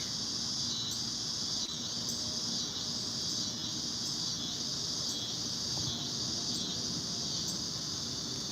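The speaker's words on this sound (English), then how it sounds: "Y'all hear these fucking bugs?" Insects chirp at night in a dense, steady, high-pitched drone that pulses faintly in rhythm and continues unbroken without any talk.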